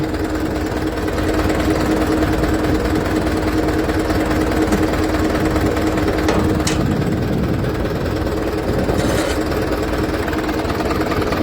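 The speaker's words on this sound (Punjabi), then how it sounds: "ਦੂਜਾ ਗੇਅਰ ਸੀ ਫੁੱਲ ਲੈਫਟ ਸਿੱਟੀ ਸੀ 11 ਫੁੱਟਾ ਰੋਟਾਵੇਟਰ ਸੀਗਾ" A 5911 tractor pulling an 11-foot supersider rotavator in second gear, a loud, constant knocking diesel drone with a rattling, hammering edge that runs unbroken throughout.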